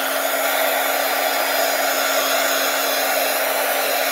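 A hair dryer blows steadily to dry a craft project, a loud constant whir with a steady hum, running without a break and with no talking.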